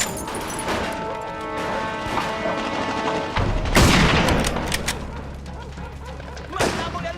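Machine gun fire in the video game Mafia II: sharp bursts and booming blasts from a balcony gun position, loud and dense over a continuous background of combat noise, with a heavy impact near the middle and another near the end.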